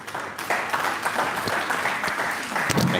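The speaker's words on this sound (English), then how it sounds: "Please give him another round of applause." A university audience in Abuja claps for a visiting World Bank vice president, a steady burst of applause filling a hall for a few seconds with no talking.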